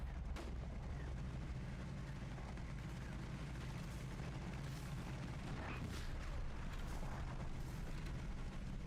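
Artillery shelling in a multiplayer shooter game: a steady, dense roar of distant booms and rumbling impacts runs throughout, with a few sharper bursts standing out from the continuous bombardment.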